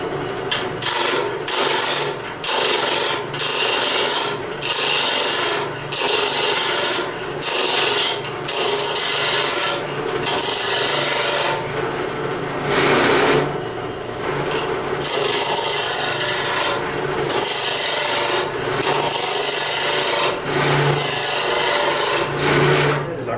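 A multi-axis hedgehog spins on a wood lathe at slowed speed while a tool rubs and rasps against the wood in steady, continuous scraping strokes with brief pauses, close and loud, and no voices.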